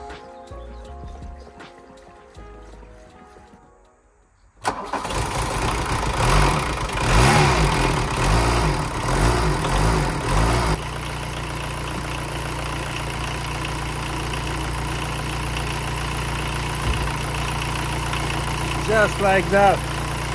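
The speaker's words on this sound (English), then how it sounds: "So I think it's time to start it using its own fuel tank." A Volkswagen Golf Mk1 abandoned for 15 years cranks briefly and fires up on its own fuel tank, then settles into a steady close idle, with someone talking before it starts.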